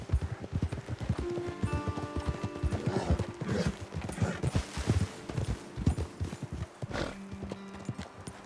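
Horses ridden in Red Dead Redemption 2, their hooves making a brisk, steady clip-clop close by, with soft game music tones underneath.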